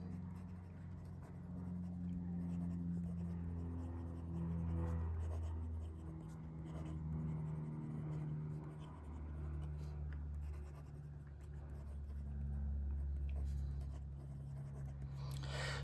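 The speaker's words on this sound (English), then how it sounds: "So on this 90 GSM Clairefontaine paper, it's an exceptionally smooth writing experience" A fountain pen with a Schmidt nib scratching softly across smooth 90 GSM Clairefontaine paper in steady continuous strokes, quiet and close, with faint low room hum underneath.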